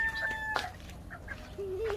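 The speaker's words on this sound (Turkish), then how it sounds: "Tavuklar, horozlar dışarıda." Sussex chickens and roosters loose outside their coop, with faint scattered clucks and a short pitched call near the end over steady low outdoor background noise.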